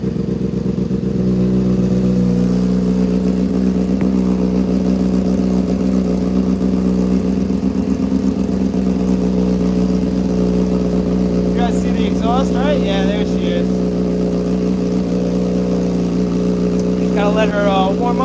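A motorcycle engine warms up at a steady, loud idle with a low rumbling drone throughout, and a few brief higher squeaks or voice-like sounds break in near the end.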